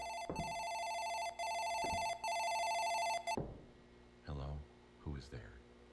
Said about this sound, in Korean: 어, 전화가 왔어요.